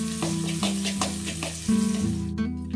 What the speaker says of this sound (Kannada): ಎಣ್ಣೆ ಒಳಗಡೆ ಬೆಳ್ಳುಳ್ಳಿನ ಹಾಕ್ಕೊಂಡು ಲೈಟಾಗಿ ರೋಸ್ಟ್ ಮಾಡ್ಕೊಳ್ಬೇಕು